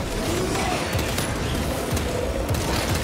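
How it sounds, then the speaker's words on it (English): Weapons firing in Space Marine 2 amid a loud, dense barrage of rapid gunfire bursts and booms that continues steadily throughout, with no talk. "I didn't realize I also had a plasma pistol."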